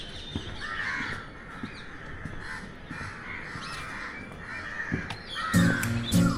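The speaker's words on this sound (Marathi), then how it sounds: "पक्ष्यांचा आवाज आहे" Crows caw repeatedly at mid distance along the Malabar Hill elevated nature trail in Mumbai, amid outdoor ambience, with a louder burst of other noise near the end.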